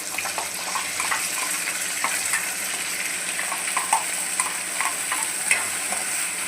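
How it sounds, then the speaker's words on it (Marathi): Curry leaves and masala for egg curry frying in hot oil, a steady crackling sizzle with stirring scrapes and a few sharper pops, close and continuous with no voices. "आता आपण तेलामध्ये कढीपत्ता टाकूया"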